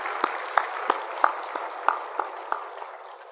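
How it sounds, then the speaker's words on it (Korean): A church congregation claps hands together in a steady, moderately paced rhythm of about ten sharp claps, heard at a distance in a reverberant hall with no talking over it. "우리 살아계신 예수님께 손뼉 쳐서 감사드리겠습니다"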